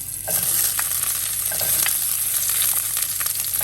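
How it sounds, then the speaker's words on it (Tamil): Chopped small onions (shallots) sizzling in hot oil in a pan for a spinach and lentil side dish, a loud continuous frying hiss with occasional crackles and spoon stirring, close, without talk. "இப்போ கட் பண்ணி வச்சுருக்கிற சின்ன வெங்காயத்தையும் ஆட் பண்ணிடலாம்"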